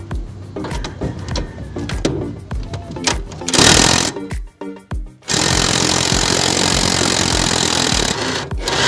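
An impact wrench rattles in quick, loud hammering bursts while loosening bolts on a Ford Lynx lateral link. Between the bursts comes a sustained, steady whir, and the gaps fall silent.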